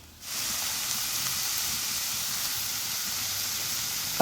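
Ivy gourd leaves hit a pan of sautéed onions and set off a loud, steady sizzle that starts abruptly and holds as an even hiss.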